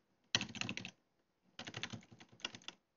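Two quick bursts of computer keyboard typing, Ctrl key shortcuts pressed while editing in the Emacs text editor, close and crisp with a short pause between them and no talk.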